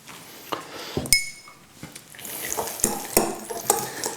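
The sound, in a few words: mixing guacamole with coriander and lime juice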